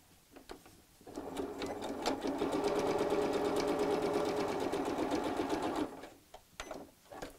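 A sewing machine stitching a purse, running in one steady fast burst of about five seconds, with softer handling clicks and taps before and after.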